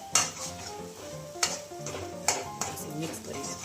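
Semolina stirred with ghee in a pan for a Gujarati-style ravo, a soft sizzle under repeated metallic scrapes and clinks of the spoon against the pan, with music playing underneath.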